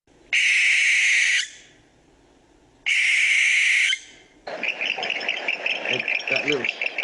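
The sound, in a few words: recorded barn owl call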